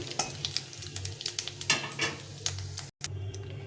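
Cumin seeds, dried red chilies and radhuni splutter in hot oil for a tengra fish curry, a crackling sizzle with repeated spoon-stirring clicks and one brief drop-out.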